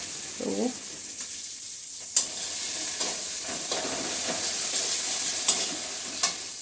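Raisin and melon seed paste sizzling in a hot pan for an aloo and jackfruit seed kalia, with scraping stirs and occasional sharp clacks of a spoon against the pan.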